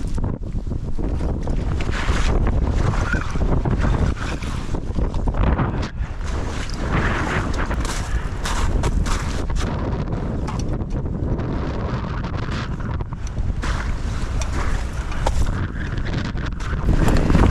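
Strong gusting wind roars across open water at a duck hunting spot, buffeting the microphone in a constant rough rush with lapping waves and no pauses.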